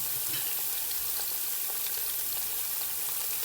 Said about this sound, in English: Gonna stir them a little bit, try to get a little bit more flavor out of it.